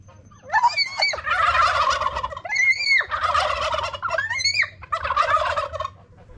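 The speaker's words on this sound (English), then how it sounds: "There's all these turkeys here" Several wild turkeys gobble in loud, rattling bursts, one call after another with brief pauses, close by and with no talking.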